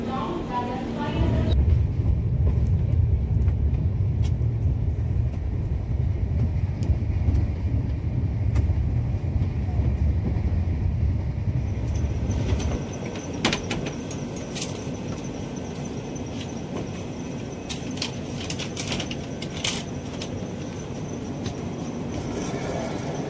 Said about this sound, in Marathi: तर ट्रेन आता पोचली आरवलीला